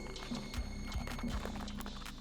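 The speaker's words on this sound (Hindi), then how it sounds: "तभी उसे एक आवाज सुनाई दी, बहुत सारे घोड़ों की" Many horses gallop in a cartoon forest scene, a dense steady clatter of hoofbeats with heavy low thumps, loud and continuous throughout.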